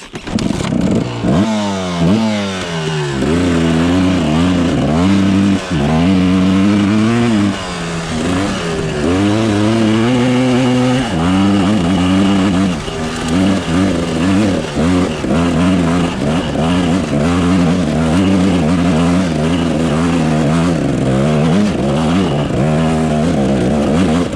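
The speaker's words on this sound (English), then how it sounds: "Here's just a little example of how the bike's running." A Kawasaki KDX 250 two-stroke dirt bike engine runs with a slightly rich air-fuel mixture, loud and close, with a rising and falling rev that blips repeatedly over a rattly idle.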